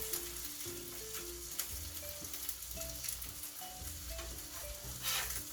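Steady sizzling of an egg frying in an egg cooker pan while a chicken sandwich is made, a continuous close crackle with no talking.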